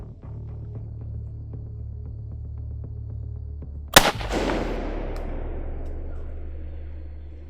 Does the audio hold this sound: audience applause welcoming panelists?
no